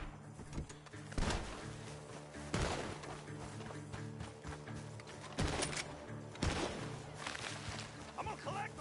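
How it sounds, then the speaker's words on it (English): Gunfire rings out from a barn in Red Dead Redemption 2: a handful of sharp, widely spaced shots, fairly distant and faint, set against a low background. "The gunshots are coming from that barn!"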